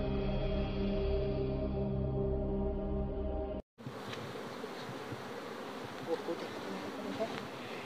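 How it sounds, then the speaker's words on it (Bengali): Honey bees at a bee farm buzz steadily and close by, a dense droning hum that breaks off briefly, then returns as a rougher, noisier swarm sound with occasional louder passes. "কারণ প্রচুর এখানে মৌমাছি রয়েছে।"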